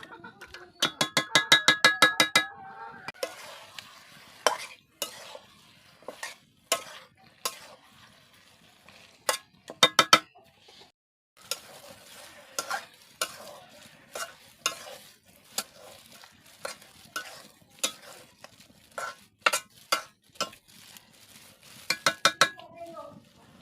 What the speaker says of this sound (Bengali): ভালোভাবে মশলাটা মাংসের সাথে কষিয়ে নেব